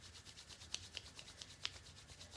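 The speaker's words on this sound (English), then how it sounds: "Rub your hands together." Palms rubbed together during a guided healing meditation, a soft, quiet brushing friction in short repeated strokes, with a few faint sharper skin scrapes standing out over about two seconds.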